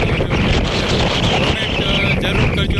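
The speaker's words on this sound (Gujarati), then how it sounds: "પવનનો અવાજ ખૂબ જ આવતો હોય છે" Strong wind roars and buffets the microphone in a steady, loud rush throughout, with no clear talk, on Lapalo hill at Avichalnath Mahadev temple.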